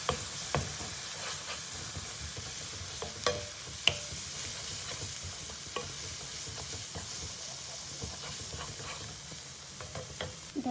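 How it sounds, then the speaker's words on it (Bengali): Chicken with chili powder sizzles and fries in a pan while a utensil stirs it, giving a steady hiss with irregular scraping taps throughout. "নাড়াচাড়া করে নিই।"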